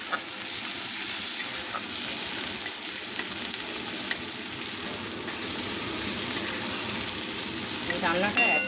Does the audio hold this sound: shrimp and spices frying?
yes